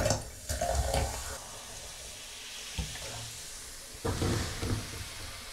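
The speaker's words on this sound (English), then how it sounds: "follow it up with vinegar into that, and you'll hear it fizz right as you pour it in" Vinegar is poured onto baking soda in a sink or shower drain, giving a watery splashing and hissing fizz with a few louder pours and clunks, close and alone.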